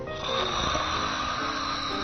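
A long, steady droning snore fills the short moment, loud and close with a rough buzzing texture and no talking over it.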